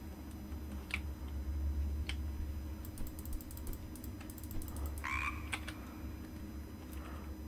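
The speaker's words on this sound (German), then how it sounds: "Hier müsste gleich der Frosch kommen." A frog in a cave in Bear Simulator gives a short croak or two over a low droning background, with scattered clicks and rattling mechanical ticks, and no talk.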